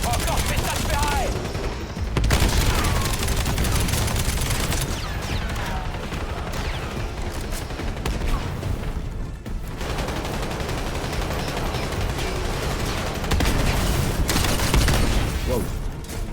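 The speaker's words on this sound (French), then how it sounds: "C'est quoi cette arme? C'est une SMG là, Akita?" SMG gunfire in the video game Black Ops 7 rattles in dense, continuous bursts amid loud combat mechanics and impacts, with near-constant firing and a few brief pauses.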